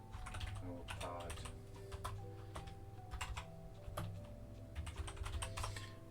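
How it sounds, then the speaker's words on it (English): Rapid, uneven tapping on a computer keyboard during a typing burst, with clustered key clicks and brief pauses, recorded close and fairly quiet under a low background hum. "Typing away."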